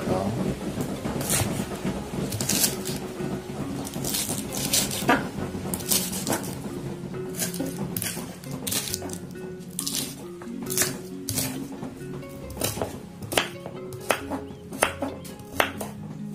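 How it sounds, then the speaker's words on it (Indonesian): Knife chopping fresh kencur (aromatic ginger) leaves on a board in a home kitchen, a steady run of crisp, close cuts, some louder strikes, with scattered kitchen clatter alongside. "kayak gini kita potong-potong kencurnya"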